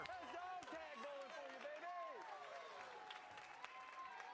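A bowling crowd at the 2024 US Open PBA event cheers and applauds, a steady wash of clapping under loud, excited voices and yelling, with people talking throughout.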